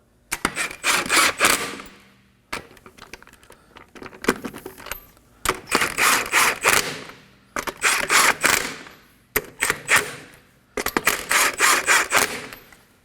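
Lug nuts are run onto a Kia Sorento wheel with a power tool, heard as five loud, close ratcheting bursts of a couple of seconds each, separated by brief pauses.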